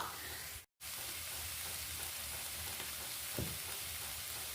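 Kerala-style chickpea curry base frying in a pan as chili powder is stirred in: a steady, close sizzle with a momentary gap early on and a faint scrape of stirring near the end, no voices.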